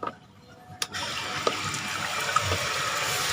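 A 105-watt Mitsubishi household water pump, just fitted with a new mechanical seal, is switched on after a couple of faint clicks. A soft, steady rush of flowing water builds, fairly quiet and even, with no voices.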